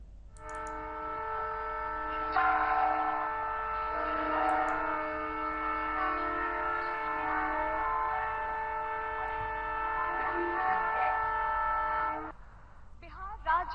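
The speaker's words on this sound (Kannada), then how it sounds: "ಅಮೃತ್ ಭಾರತ್ ಎಕ್ಸ್ಪ್ರೆಸ್ ಹಾಗೂ ನಮೋ ಭಾರತ್ ರ್ಯಾಪಿಡ್ ರೈಲುಗಳಿಗೆ ಪ್ರಧಾನಿ ಹಸಿರು ನಿಶಾನೆ ತೋರಿದರು" At a ceremony where the Prime Minister flags off the Amrit Bharat Express and Namo Bharat Rapid trains, a train horn blows one long, steady, chord-like blast for about ten seconds, then cuts off.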